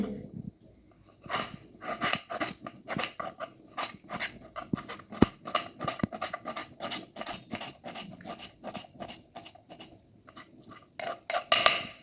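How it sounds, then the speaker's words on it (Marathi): A knife finely chopping tomato for a vegetable curry, producing a quick run of crisp, close taps against a board in steady bursts, with short pauses and slightly louder strokes near the end, and no talking. "आता आपण भाजीसाठी टोमॅटो बारीक असं चिरून घ्यायचे"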